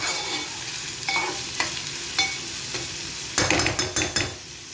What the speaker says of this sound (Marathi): कांदा, कांदा परतून घेऊया चांगला लाल होईपर्यंत.